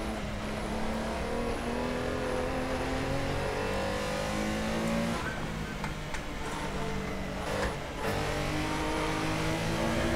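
Porsche Carrera Cup race car engine in a sim racing game, droning loudly and steadily throughout, with pitch rising and falling through gear changes and brief rough scrapes partway through, no speech.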